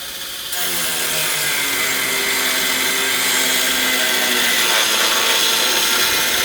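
A power screwdriver drives screws into a golf cart build, a loud, steady motor whine that starts abruptly and holds close throughout, rising slightly in pitch as it runs.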